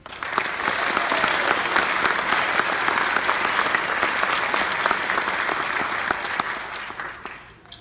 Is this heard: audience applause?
yes